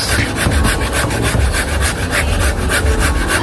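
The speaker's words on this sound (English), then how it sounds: "Now I'm going to grate this stuff too in it." Boiled vegetables rubbed against a metal grater while layering a Russian salad, a steady rhythmic scraping of repeated strokes, close and loud throughout with no talking.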